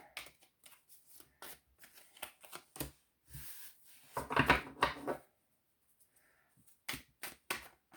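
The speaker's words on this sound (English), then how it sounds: "I'm gonna finish drawing the cards" Tarot cards being drawn and handled: scattered short shuffling, sliding and tapping sounds, some brief and sparse, with a denser burst of card handling midway and quiet gaps between.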